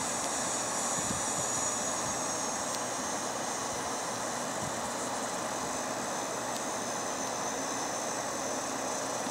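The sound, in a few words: Qantas Airbus A380 aircraft engines on the ground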